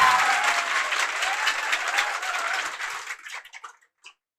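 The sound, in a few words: applause for the institute's first students to become police sub-inspectors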